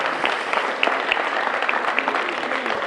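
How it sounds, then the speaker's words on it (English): An indoor school audience at H.D. Woodson claps for Samuel Bell during a mayoral event, a continuous burst of applause at moderate loudness with a few voices faintly mixed in. "Give him a big round of applause"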